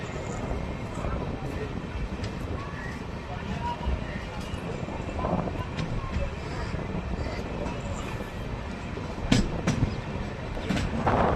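A steady rumble and rattle from inside the moving Erode–Jogbani Amrit Bharat Express passenger train, with someone talking over the continuous wheel and carriage noise and a few louder clanks near the end.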